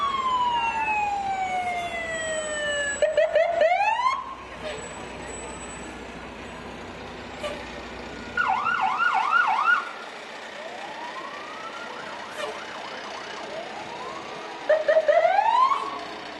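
Fire truck siren at a Fourth of July parade in Cannon Falls, with wailing sweeps and short yelps recurring over the course of the clip, loud and fairly close amid outdoor crowd ambience.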